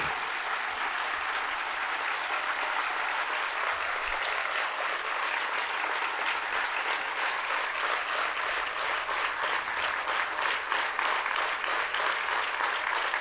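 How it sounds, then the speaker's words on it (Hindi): A large crowd at a religious gathering for a Jain monk applauds loudly and continuously, a thick, even roar of clapping sustained without pause for the whole stretch. "आप जोरदार तालियां बजाइए।"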